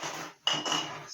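A metal utensil clinks against a pot of melted butter during canning, two or three quick, fairly quiet scrapes and taps.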